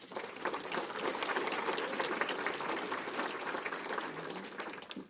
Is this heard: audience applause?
yes